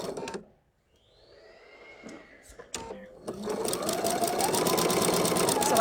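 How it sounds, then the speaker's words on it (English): Sewing machine stitching a very narrow zigzag over needle threads, starting after a short pause and building into a steady, rapid mechanical chatter up close, with a brief bit of handling noise before it. "I'm going to zigzag stitch right down over those needle threads."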